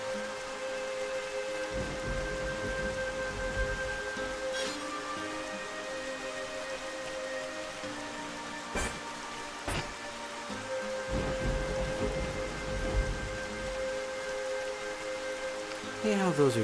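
Rainfall in the video game Xenoblade Chronicles, a steady soft hiss of rain beneath tonal in-game music, with faint scattered patter and occasional brief louder bursts throughout.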